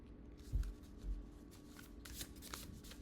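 Tarot cards being shuffled by hand in a quiet room, giving a few soft riffling bursts with light papery clicks, close and fairly faint.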